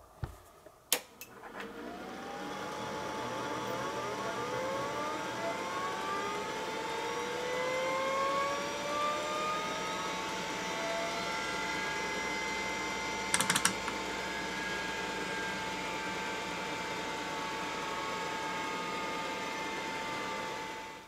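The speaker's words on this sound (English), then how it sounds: "Now that noise you heard is the mechanical AutoPark" A Microscience HH-1060 RLL hard drive on a test bench gives a few sharp mechanical clicks from its AutoPark head solenoid, then spins up into a steady whine with rising tones, plus one brief rattling burst partway through.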